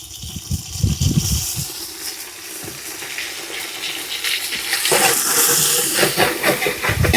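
Ginger garlic paste sizzling with onions and green chillies in a pot for a fish dum biryani, a loud continuous hissing fry with stirring scrapes, swelling louder toward the end.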